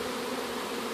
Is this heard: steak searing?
no